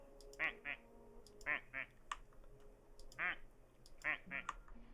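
A man imitates a duck, giving several pairs of nasal, raspy quacks in an uneven rhythm, with faint clicking between the calls.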